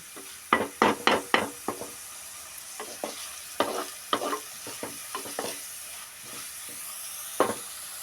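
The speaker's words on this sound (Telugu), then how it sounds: "బాగా కలుపుకోవాలండి కొద్దిసేపు ఉల్లిగడ్డలు కలర్ మారేంత వరకు అట్లే కలుపుకోవాలండి" Onions fry in a pan while being stirred until they change colour, with sharp scraping strokes of a spoon against the pan in bursts over a quieter sizzle.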